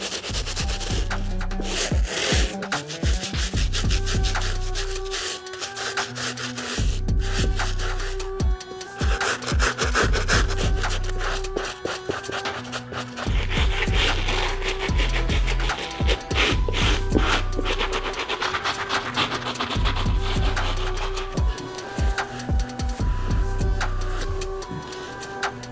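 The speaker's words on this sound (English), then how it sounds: "we're going to be using the stiff bristle brush on this outsole." A stiff bristle brush scrubs the outsole of a leather Nike Dunk sneaker in quick, rhythmic back-and-forth strokes, close and scratchy, with a few short pauses between bursts across the whole stretch.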